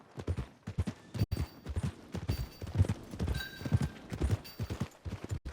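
Horse hooves clip-clop in a steady walking rhythm on a trail in the video game Red Dead Redemption 2, close and fairly loud, the regular hoofbeats continuing throughout with faint background ambience.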